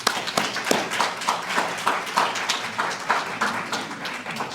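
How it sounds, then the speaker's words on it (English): An audience at a scholarship event claps in a rapid, uneven burst of applause, loud and close, lasting several seconds. "I want you all to give a round of applause to your village"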